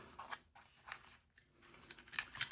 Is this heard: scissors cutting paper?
yes